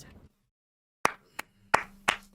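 A few separate hand claps, sharp and close, irregular after a brief silence, from a stream host cheering on MainManSWE, a Tekken player.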